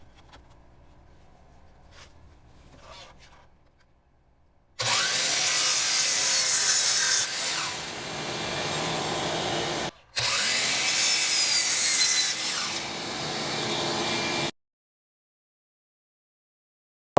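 A power saw cuts wood pieces for the conical base of an oval table: two loud, close bursts of whining, rasping cutting with a brief gap between them, preceded by quiet workshop noise and followed by silence.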